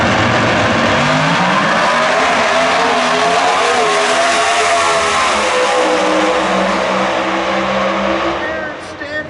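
Top Sportsman drag race cars at zMAX Dragway's 4-Wide Nationals launch and roar down the track, a loud sustained engine howl with shifting pitch, under the announcer's commentary.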